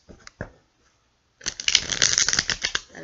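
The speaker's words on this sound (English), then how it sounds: "I think we have about 3 more shuffles, and then I'm going to pull the cards." Tarot cards shuffled by hand, a couple of brief riffles and then a dense, crisp run of rapid flicking and slapping close up, with no talk.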